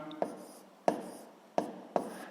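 A pen scratches across paper in four short, distinct strokes, each a quick soft scrape fading out, close and quiet in a still room.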